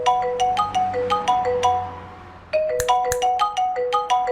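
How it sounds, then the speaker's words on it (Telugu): A mobile phone rings with an incoming call, playing a bright melodic ringtone of repeating chime-like notes that stops briefly midway and then starts again, loud and close with no talking. "వీడెందుకు ఫోన్ చేస్తున్నాడు ఇప్పుడు?"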